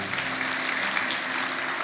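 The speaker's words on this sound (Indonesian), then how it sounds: "kasih tepuk tangan untuk Tuhan Yesus." A church congregation claps at a worship service, dense, sustained applause that fills the room evenly, with faint murmuring underneath.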